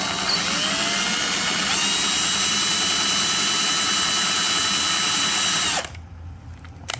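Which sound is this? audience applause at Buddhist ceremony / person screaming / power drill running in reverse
power drill running in reverse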